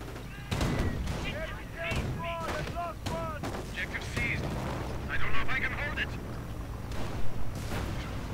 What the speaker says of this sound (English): Ostwind charging in, 37mm gun blazing, firing away.